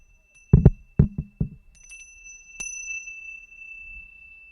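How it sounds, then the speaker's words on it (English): A bell rings at a wedding ceremony after a few sharp knocks, one clear strike whose high tone rings on steadily and fades slowly, in a quiet room with no talking. "I'm going to ring a bell"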